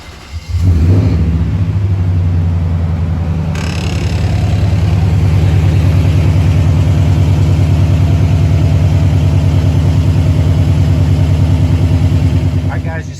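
The engine of a Nissan Titan that has just had its fuel pump replaced starts with a brief crank and settles into a loud, steady idle rumble that continues for over ten seconds.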